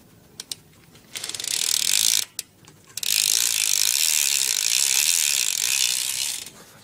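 A brand new BMX bike chain freewheels with a loud, fast, steady clicking ratchet, up close. A brief burst comes first, then a short pause, then one long sustained run that fades out.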